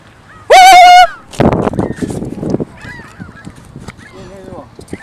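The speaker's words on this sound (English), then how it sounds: "It's a bird." Geese honk loudly and close during feeding, with one sharp, blaring call followed by scattered squawks, rustling and softer bird calls as people talk nearby.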